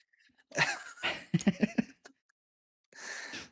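A man sneezes forcefully in a couple of sharp close bursts during a wrestling talk show, followed by a short run of throaty vocal noises and a pause.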